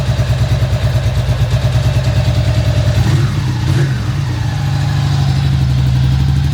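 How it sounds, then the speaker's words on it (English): A Ducati motorcycle engine idles steadily with the choke still partly on, a loud close low thrum with a slightly uneven beat and a brief rise and blip around the middle before settling back to a steady run. "But yeah, it's running. We've got a bit of choke."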